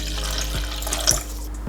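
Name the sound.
water being added to barley grass powder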